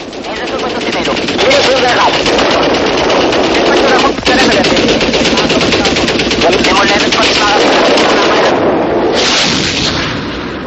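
Aircraft gunfire during aerial combat captured on Israeli gun camera footage, a continuous loud rattling roar of rapid shots over heavy engine and wind noise, with narration speaking throughout.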